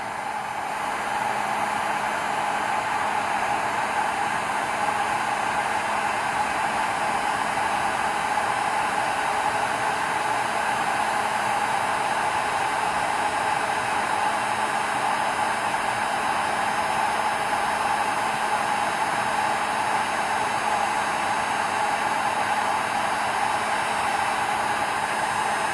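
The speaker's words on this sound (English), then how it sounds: "So we're going to use the heat gun on high." Heat gun running on high while shrinking solder seal wire connectors, giving a steady, loud blowing roar with a faint hum that stays constant throughout, with no talking.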